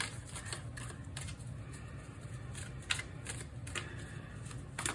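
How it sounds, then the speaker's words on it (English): Tarot cards shuffled by hand in silence, a soft, continuous riffling and rustling with repeated crisp slaps and flicks, close and fairly quiet. "then I'm going to be shuffling in silence"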